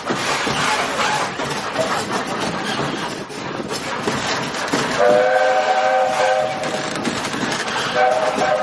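Walt Disney World Railroad steam train holding on the track, a steady rumble of the locomotive with a sustained whistle-like tone sounding near the end over the ambient noise.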